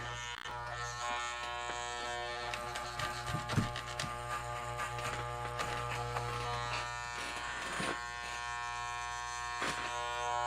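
Electric clippers buzz steadily while trimming the fur of a Devil Monkey monster costume, a close continuous hum with faint snipping crackles as the blades move through the fur, and no talking.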